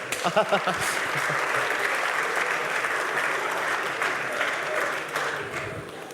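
A studio audience at an impersonation contest on the Vitamin Club TV show claps in loud, sustained applause that fades slightly near the end, with a voice faintly audible at the start.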